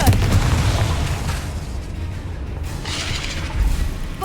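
A Confringo spell blast in Hogwarts Legacy, a dense, booming fiery burst with rumbling low end that rolls on for a few seconds, loud and close, with no talking over it.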